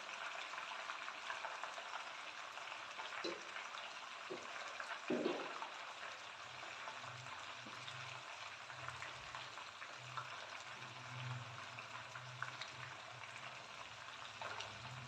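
Whole chargha chicken deep-frying in hot oil, a steady broadband sizzle and bubbling that runs throughout at a moderate level, with a few brief clatters and a low hum underneath.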